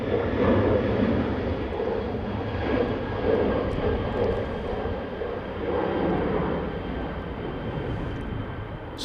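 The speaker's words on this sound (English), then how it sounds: "Such an awesome noise when they're departing from 23 left, right next to us here." An Airbus A330 jet departs Manchester Airport runway 23 left, a loud, close, sustained engine roar with a low rumble that swells and eases slightly, with no speech.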